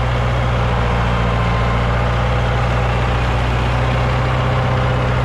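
A T25 tractor engine runs steadily throughout, a low, even rumble with a faint rhythmic throb and no pauses.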